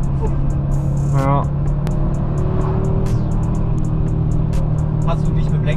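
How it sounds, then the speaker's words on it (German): An Audi RS3 five-cylinder engine drones steadily from inside the car while driving, a continuous low rumble with occasional revving under ongoing conversation between occupants. "Man hört zwar noch 5-Zylinder"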